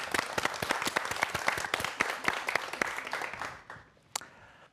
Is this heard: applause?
yes